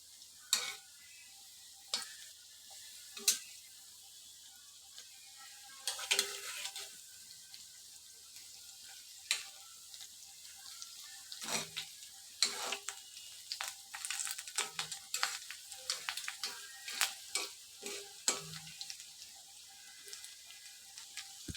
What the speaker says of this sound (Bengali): ভাজা হচ্ছে এভাবে